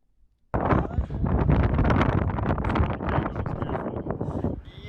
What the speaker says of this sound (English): It was super windy.